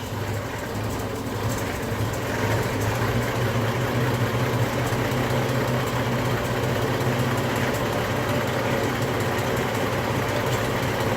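A 1929 DeSoto car engine idling at a steady, even pace, a continuous close rumble with a fairly smooth rhythm and no voices over it.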